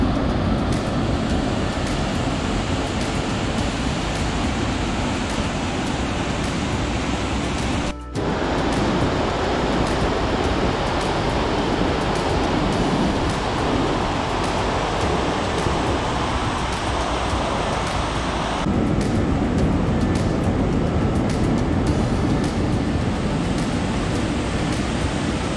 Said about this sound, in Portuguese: iniciando ali passando pelas corredeiras do rio Santo Antônio